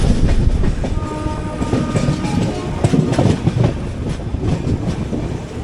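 Sainagar Shirdi Express train entering the loop line at Lingampalli station, a loud, steady rumble and clatter of wheels and wagons passing close by throughout, with no talk.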